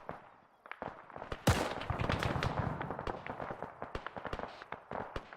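A heavy machine gun fires in Arma 3 squad combat, heard as rapid repeated cracks and thumps with one loud blast near the start, some close and some distant.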